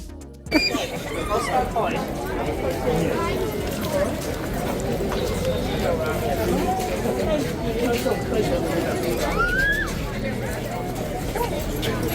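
A King's Guard horse's hooves clip-clop intermittently beneath a steady crowd babble, with people chattering around outdoors; the hoofbeats are soft and partly masked by the noise.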